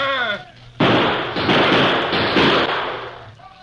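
Gunfire in an old-time radio drama shootout: loud, close bursts of blasts with sustained crackling noise, separated by short gaps, following a brief voice at the start.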